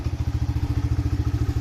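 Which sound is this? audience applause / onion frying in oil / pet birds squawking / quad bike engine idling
quad bike engine idling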